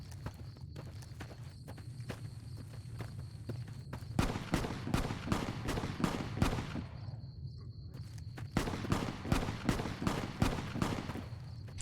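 Gunshots ring out in Fallout: New Vegas during the Honest Hearts add-on, a run of loud sharp cracks in bursts over steady footsteps, with short pauses between volleys.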